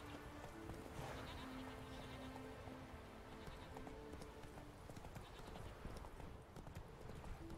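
Horse hooves clip-clop steadily in The Witcher 3, a quiet, even trot over a low ambient game background with faint animal sounds and a voice talking over it.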